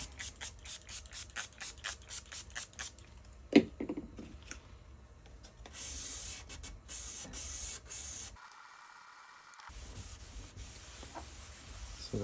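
Hand sanding of a turntable's plastic dust cover with 600-grit paper, a steady scratchy rubbing in repeated strokes with small clicks and knocks, close and alone.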